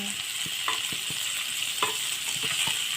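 Continuous bright sizzle of frying in a pan, with scattered pops and a few soft scraping stir sounds, close and steady.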